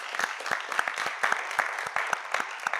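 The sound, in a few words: audience applause for debate teams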